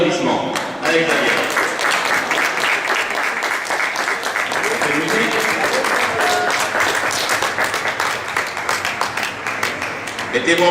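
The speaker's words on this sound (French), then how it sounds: "Sous vos applaudissements" Sustained audience applause and clapping at an Icelandic horse riding championship prize ceremony, dense and close, running unbroken throughout with voices mixed in.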